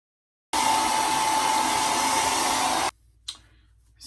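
A hair dryer blow-drying hair for a wavy blowout runs loud and steady at close range with a constant whining tone, then cuts off abruptly, leaving a couple of faint handling sounds.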